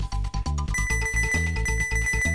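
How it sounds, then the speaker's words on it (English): A bell rings repeatedly in the Goof Troop video game, quick bright chimes layered over bouncy retro game music with a thumping bass line, loud and with no talking. "Gonna ring the bell, get their attention."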